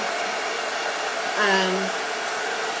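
A hair dryer blowing to dry something quickly: a steady, close whooshing hum that holds evenly, with a brief faint tonal wobble near the middle.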